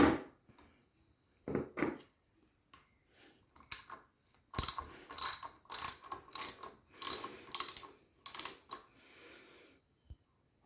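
Ratchet clicks on 8mm bolts at a Honda NC750X handlebar, coming in short bursts of rapid pawl ticking, close and crisp, separated by pauses and light handling noises.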